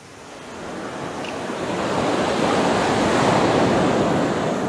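Ocean surf breaking and washing over a coastal rock, a broad roaring wash that builds steadily and stays loud and close, mixed with wind noise on the microphone.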